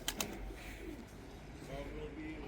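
Domestic pigeons kept for flight training give soft, low cooing calls close by, repeated over a steady background murmur, with two sharp clicks at the start.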